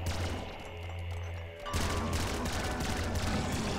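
A flare gun fires in the Nuclear Throne video game, a dense burst of crackling, popping shots with a low hum, louder and fuller after a sharp jump midway, continuing steadily with no talk.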